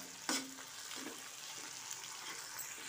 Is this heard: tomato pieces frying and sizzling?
yes